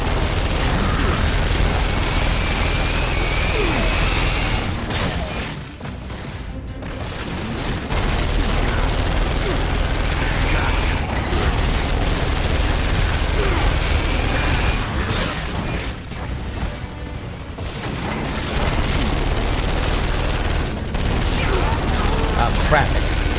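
Rapid turret gunfire roars in Gears of War 2, dense sustained bursts with booming impacts and explosions, briefly dropping out twice before resuming at full intensity.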